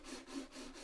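A computer mouse rubbed back and forth across a surface, making a soft rhythmic scraping with three or four strokes in under a second; close, faint and alone.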